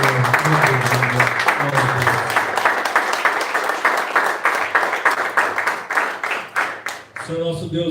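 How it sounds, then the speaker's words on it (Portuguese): A church congregation claps loudly together in fast, steady applause that thins into scattered claps near the end, with singing or voices underneath. "Aplauda o Senhor."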